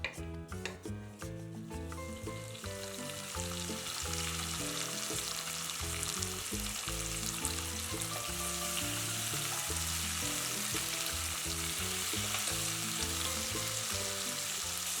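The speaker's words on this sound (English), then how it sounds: "Tomatoes should start getting soft and will start popping little bit." Tomatoes and green olives sizzle steadily in a hot pan while being stirred, with a continuous fry hiss and soft scraping, and music playing loudly over it.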